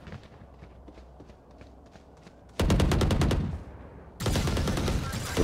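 Gunfire in the Valorant video game: quiet footsteps and distant shots give way to two loud bursts of rapid automatic fire, separated by a short pause.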